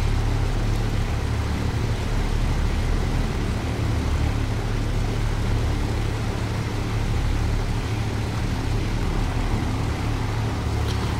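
Piston engines of a Douglas DC-6 run in a flight simulator, a loud, continuous droning rumble with propeller noise that holds steady throughout, with no speech over it.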